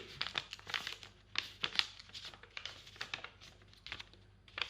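Paper is folded and creased by hand for an origami Easter bell, a close, continuous run of soft crinkling and rustling with short crisp bursts, faint and without talk.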